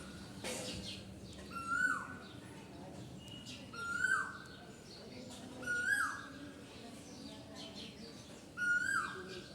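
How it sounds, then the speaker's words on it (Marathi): An Asian koel calls four times at steady intervals, each a rising whistled note, loud and fairly close over faint background birdsong. "की छान असा आवाज येते कोकळ्याचा"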